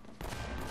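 A short, dense burst of gunfire in the video game Uncharted breaks in suddenly after a brief quiet moment and keeps crackling at a moderate level with no voices over it.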